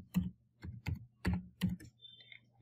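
Close, quiet typing on a computer keyboard: a handful of distinct keystrokes in an uneven rhythm, each a soft thud with a click, followed by a brief faint higher tone.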